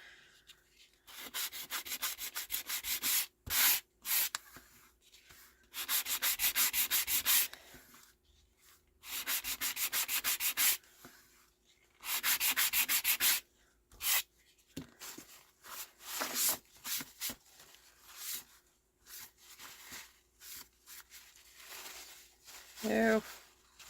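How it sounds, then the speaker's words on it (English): Hand sanding on a paper bag photo album, close rubbing strokes in bursts of a second or two separated by short pauses, with a faint voice near the end. "I'll just do a bit of sanding on that one."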